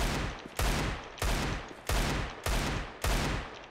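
Six loud Desert Eagle pistol shots in a video game, fired at an even pace, each a sharp crack followed by a brief echoing tail.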